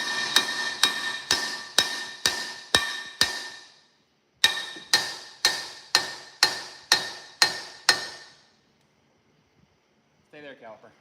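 A hammer strikes a seized brake caliper in two runs of seven sharp metallic clangs, each ringing briefly in a steady rhythm, followed by a short spoken voice.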